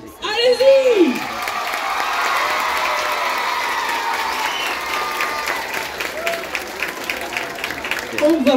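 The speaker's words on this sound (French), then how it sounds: "On va faire un tonnerre d'applaudissements et plein de bruit pour l'artiste" Broad applause and cheering from a children's choir concert audience, a steady wash of clapping with shouts and whoops, voices breaking through at the start and end.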